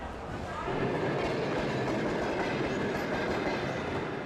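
A train at a railway station on the route toward the town of Kayyngdy, a steady loud rumble of railcars and wheels continuing throughout, with a faint murmur of voices in the background.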